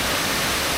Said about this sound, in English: little mini waterfalls all the way down the hill, like in a little gorge